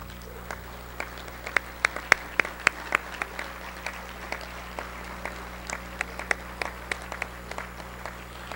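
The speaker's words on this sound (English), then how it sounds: "If you are a Hall of Famer, please stand for a round of applause." A softball Hall of Fame induction ceremony audience gives a round of applause: sparse, scattered individual claps ring out steadily over several seconds against a quiet hall, with no talking.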